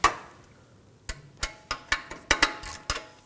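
A 22mm extractor socket on a ratchet loosens the downstream oxygen sensor near the catalytic converter of a 2016-2020 Kia Sorento 2.4L. Close, sharp metallic ratchet clicks come in a quick irregular series, with no talking.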